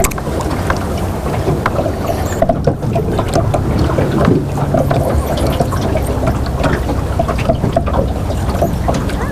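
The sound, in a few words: boat trolling motor running on water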